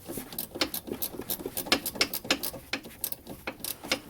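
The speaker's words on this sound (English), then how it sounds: "So I'm just going to use my ratcheting wrench from..." A ratcheting wrench turns nuts on a strut assembly for an 8th or 9th generation Chevrolet Impala, a close, quick series of sharp metallic clicks in short irregular bursts.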